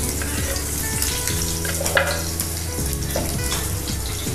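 Steady close-up sizzling of green chilies frying in hot ghee with mustard seeds, with a constant crackle and occasional stirring clatter, no voices.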